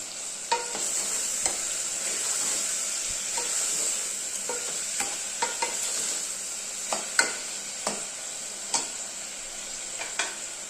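Crushed small onions for rasam fry in a pan with a steady hiss, broken by repeated clinks and scrapes of a spoon stirring at irregular intervals. No one speaks.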